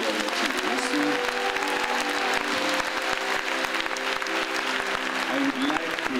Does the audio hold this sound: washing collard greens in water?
no